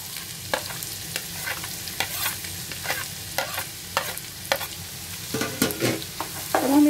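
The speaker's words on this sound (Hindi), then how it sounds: "अब हम इसको अच्छी तरह से हाई फ्लेम पर 2 से 3 मिनट के लिए फ्राई कर लेंगे।" Finely chopped onions fry over a high flame in a pan of sizzling oil, stirred often. Sharp scrapes and clinks punctuate the steady hiss, growing louder toward the end, and there is no speech.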